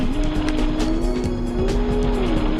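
A Porsche race car driven in the PS1 racing game Porsche Challenge, its engine droning steadily with a rising and falling pitch and brief tire squeal, continuous and loud with no talk.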